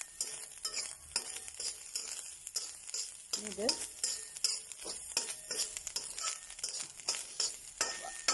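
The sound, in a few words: mushrooms frying in a pan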